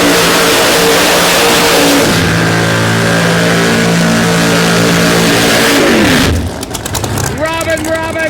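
A Pro Mod drag racing car revs loudly during a qualifying session, its engine holding a steady high drone for several seconds before the pitch drops away. Sharp, choppy revving bursts follow close by.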